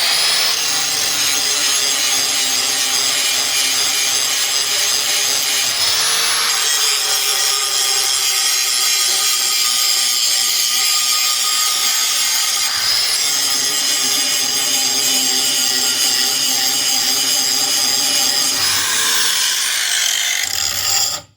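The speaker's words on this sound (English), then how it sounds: "So you want to run the grinder blade flat on this side" An angle grinder sharpens a John Deere STX 46 mower deck blade, the disc run flat against the steel in a loud, continuous high-pitched grinding that holds steady with brief shifts in pressure and a short pause near the end.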